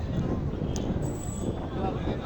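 Wind roars across the roof of a moving train in open green countryside, a loud, constant low rumble and buffeting rush that fills the whole moment.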